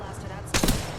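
A short burst of gunfire from the Apex Legends battle royale game cracks out midway, loud and close, rising abruptly from a quieter game background.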